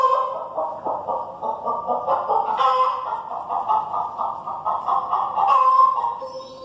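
A hen clucks in a steady run of short, bright calls, fairly close and loud, with a couple of louder squawks breaking through near the middle and toward the end.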